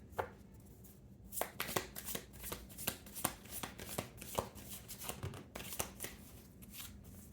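Oracle and tarot cards shuffled by hand in a quiet room, a steady run of crisp riffling slaps and flutters repeating close up for several seconds with no talk.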